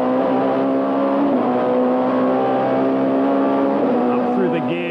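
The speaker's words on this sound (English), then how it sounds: "Listen to the wheel spin." A 1998 BTCC touring car spins its wheels at Knockhill, a loud, close engine drone holding steady at high revs with a brief pitch dip near the end as it fights for grip.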